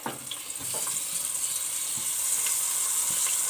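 Ground chana dal hits ghee left over from frying makhana, for a chana dal and makhana halwa. A soft sizzle swells into a steady hiss after a few faint clinks, with no voices.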